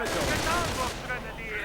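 Gunfire from a real-time strategy battle game, a dense burst of overlapping rifle and machine-gun shots rattling continuously, with a commentator speaking over the din.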